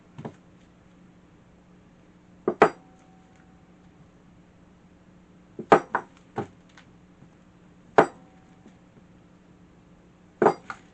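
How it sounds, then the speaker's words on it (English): Knife chopping chocolate coffee vanilla melt and pour soap into small pieces: sharp, separate clinks and knocks on a hard surface come in irregular bursts of one to three strikes with quiet gaps between them. "So I'm going to take my little knife here, and we're just going to chop these up."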